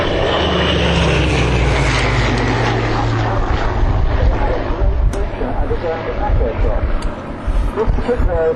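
Hawker Hurricane propeller fighter passing at an air display, a loud steady engine drone with wind noise that gradually shifts as the aircraft moves by, while a commentator talks over it.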